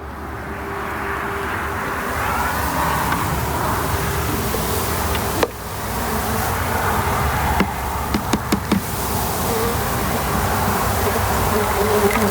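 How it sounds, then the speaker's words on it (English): Honeybees dumped from a bucket into a hive at a bee yard make a dense, steady buzzing swarm that stays close and loud throughout, with a few sharp knocks and taps toward the end. "We're gonna dump our bees. We got a bunch of framed up honeycomb. Let's see, 6 frames and a bucket of bees."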